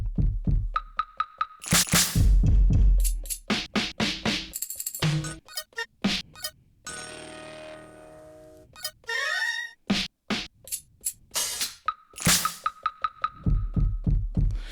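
Punchy sampled drum hits and electronic pad sounds triggered one after another on a Maschine Mk3 drum machine, loud and close, with irregular rhythm and short bursts of melodic and noisy samples.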